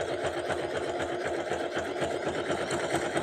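A sewing machine stitches fabric strips onto a rag rug, a steady close whirring and rapid needle chatter that runs continuously and loudly with no pauses.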